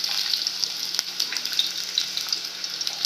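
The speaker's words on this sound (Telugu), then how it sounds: "ఆనియన్స్ వేస్తున్నాను." Onions frying in hot oil for a curry: a steady, dense sizzle with a crackling hiss that continues without pause and holds at an even loudness throughout.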